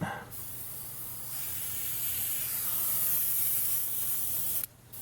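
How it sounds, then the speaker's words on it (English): An airbrush spraying paint onto the body of a 1965 Coronet, a steady close hiss running for about four seconds before cutting off. "I'm thinking for this airbrush, it would have been better to have more paint in it."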